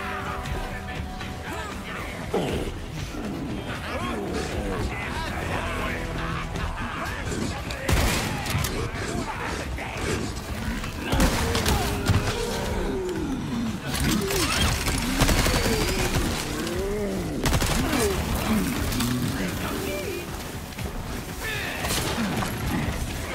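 Gunfire aimed at a brute enemy in Resident Evil 4 Remake, on Professional difficulty in Separate Ways, with repeated shots and crashes under dense, loud combat noise and music while a voice talks.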